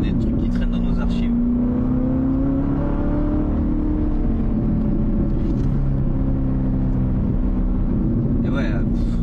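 Corvette C7 ZR1 engine droning steadily from inside the cabin while driving, a continuous loud rumble and whir with slight rises as the car pulls, voices talking over it throughout.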